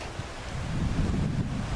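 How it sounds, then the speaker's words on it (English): Wind blowing outdoors on a gusty day near a homemade wind turbine, a close, rough rumbling buffet against the microphone that stays steady and loud throughout, with no voices. "And it's pretty windy today for my area."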